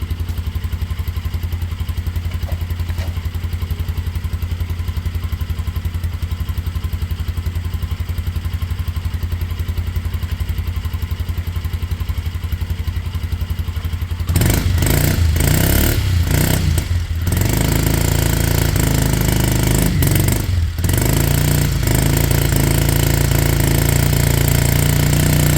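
A Kymco Zing 125cc scooter engine idles steadily with a rapid, even putter, choke on, then grows louder and rougher partway through with a few uneven surges.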